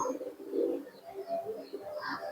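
Giribaz pigeons coo in soft, repeated throaty murmurs close by, several birds overlapping in a low, continuous burble.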